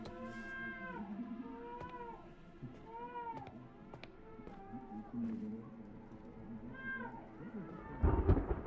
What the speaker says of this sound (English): My cat is yelling outside.